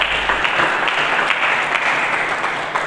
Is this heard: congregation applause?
yes